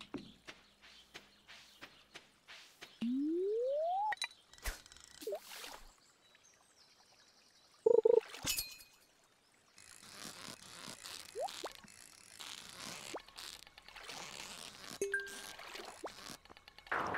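Stardew Valley fishing at a fishing spot: a rising reel-in whine, plinking chimes and splashy game effects come in short bursts over quiet background, with a bright bite-alert ding around the middle.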